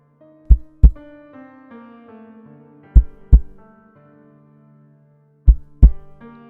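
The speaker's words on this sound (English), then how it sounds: "he heard a peculiar noise. It sounded like a heartbeat" Heartbeat thumps for a scary story, three paired lub-dub beats spaced a couple of seconds apart, loud and close over a sustained eerie musical drone.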